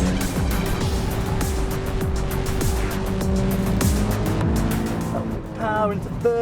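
A 2027 Nissan Z Nismo with a manual gearbox driven hard on a racetrack, its engine note steady and loud throughout as it is worked through a mini chicane, with a person talking over it.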